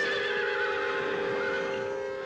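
A Lipizzan horse gives a long, loud, sustained whinny that wavers in pitch and fills the whole moment. It sounds close and stands alone, with no talk.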